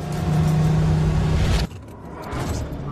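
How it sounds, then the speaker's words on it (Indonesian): A 30-million-dollar car pushed to full speed gives a loud, steady engine roar for about a second and a half, then drops abruptly to a softer, lower rumble. "Waktu kami bersenang-senang, Bo Bachman mendorong mobil 30 juta dolar ini ke kemampuan maksimalnya."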